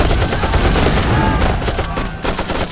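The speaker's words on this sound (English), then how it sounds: "bombs landing, artillery shells exploding, people screaming" Battle noise fills the clip with dense, continuous gunfire and explosions, a chaotic, loud fusillade of overlapping cracks and rumbling booms with no pause.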